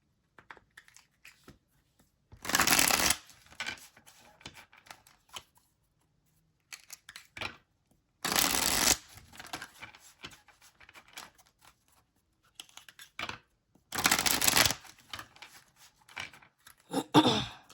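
Tarot cards being shuffled in the hands: three separate short, crisp riffling bursts come several seconds apart, with quiet gaps and faint handling ticks between them.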